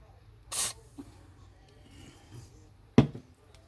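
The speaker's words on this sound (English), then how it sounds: "Now, I'm not spraying too heavily." Two short bursts of oil spray hiss into a vintage sewing machine, one early and one near the end, separated by quiet with faint background noise.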